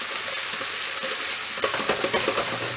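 Apples cook in a pan with a dense, steady sizzle, and toward the end a utensil stirs and scrapes through them in a few soft bumps.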